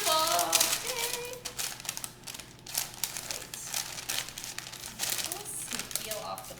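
Parchment paper peeled away from a strawberry rhubarb pie crust, crisp crinkling and tearing rustles close up, with people talking over it.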